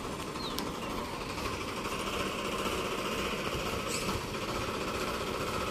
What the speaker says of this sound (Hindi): क्या शानदार आवाज है फार्म ट्रैक 45 की